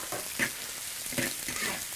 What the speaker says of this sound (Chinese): 现在倒油炒牛腩，油烧热倒牛腩